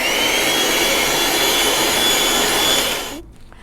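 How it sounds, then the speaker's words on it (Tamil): An electric beater whips egg whites for a black forest cake icing, a steady high-pitched whirring drone that runs loud for about three seconds before cutting off abruptly into quiet. "நான் வந்து இன்றைக்கி எலக்ட்ரிக் பீட்டர் யூஸ் பண்ணி பீட் பண்ணுறேன்"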